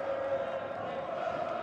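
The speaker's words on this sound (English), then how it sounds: "Crowd now getting into it." A basketball arena crowd roars steadily with cheering and shouting, a dense wash of many voices at moderate volume with a commentator speaking over it.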